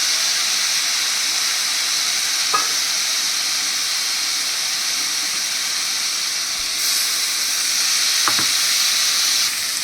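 Spice paste frying in a pan for a banana-stem ghonto, with steady close sizzling and hissing throughout, broken by a couple of brief stirring scrapes and no talk.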